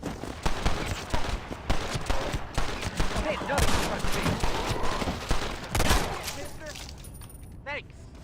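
Gunfire from the Red Dead Redemption video game, with dense, crackling shots in quick succession close by and someone talking over the shooting.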